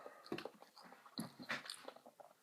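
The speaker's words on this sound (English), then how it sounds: "I love how I'm just chewing in the background" Loud, close chewing of Chinese food, with wet crunching bites and squishy mastication in an irregular rhythm and no speech.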